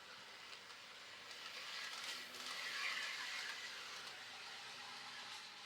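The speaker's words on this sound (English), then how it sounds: "I performed a few back and forth passes at various speeds just to make sure that the loco was correctly" A Revolution Trains Class 128 model locomotive fitted with DCC running back and forth on track, a faint steady whir and rolling hum that swells as it passes nearer and then recedes.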